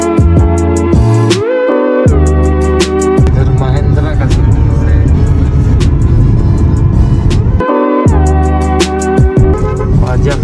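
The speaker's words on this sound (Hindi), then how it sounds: "पूरा एकदम ट्रैफिक चारों तरफ" Heavy highway traffic jam with cars and buses: a dense engine rumble is punctuated by repeated, close car horn toots and honks, with a voice occasionally audible in the mix.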